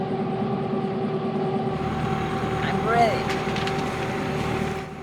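An aluminum boat under way with its engine running: a steady droning motor hum with a tonal whine, and voices briefly audible over it.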